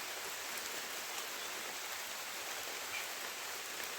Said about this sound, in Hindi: इतनी बारिश हो रही है, इतनी बारिश हो रही है।